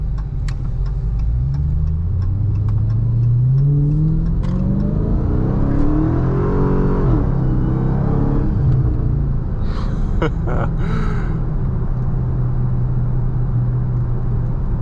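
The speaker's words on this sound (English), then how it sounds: "you can hear that supercharger whine" A supercharged Dodge Charger Hellcat Widebody Jailbreak engine revs and accelerates with a loud, rising rumble, a high supercharger whine layered over the roar, steady and close throughout.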